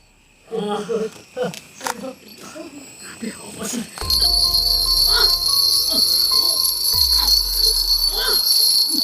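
People talk briefly, then a bright metallic bell rings loudly and keeps ringing in a shimmering, sustained clang with a low rumble beneath.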